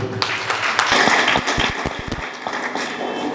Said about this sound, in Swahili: Tuwapige makofi.